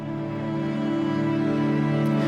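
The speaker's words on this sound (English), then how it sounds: "So the very first effect here is just this grain delay," Labs cello patch run through a grain delay effect, a steady sustained bowed tone with faint shimmering grainy repeats layered over it, swelling slightly in level and heard alone without talk.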